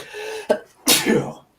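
A single sharp sneeze bursts out, preceded by a short inhale, close and loud with no other voices.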